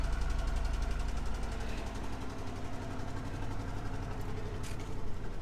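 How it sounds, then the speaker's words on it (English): A 1963 Ford Galaxie 500XL convertible engine idles steadily through dual exhaust pipes, a deep, even rumble with a rhythmic low throb, close by and constant throughout. "the exhaust exits through dual pipes out the back"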